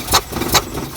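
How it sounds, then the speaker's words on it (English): A 1975 Chevy Camaro engine cranks with one spark plug removed, giving two quick, loud, rhythmic whooshing starter pulses within a second, close up and with no voices. "But let's see what happens if we crank it."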